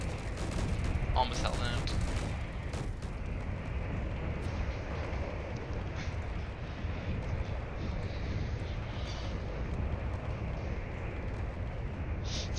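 Heavy weapon fire batters a dreadnought-class ship in Space Engineers, a dense, continuous rumble of impacts and blasts with a voice talking over it.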